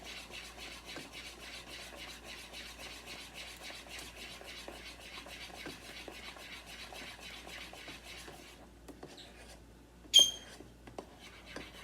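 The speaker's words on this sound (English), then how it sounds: "I'm going to stir more rapidly now because this grape juice is boiling." Steady scraping and rubbing of a utensil stirring boiling grape juice in a pot for pudding, a continuous quiet rhythmic swish with one sharper clink near the end.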